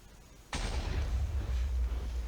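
A single TNT blast in a modded Minecraft world erupts suddenly, loud and booming, then settles into a long rumbling roar that lingers for about two seconds.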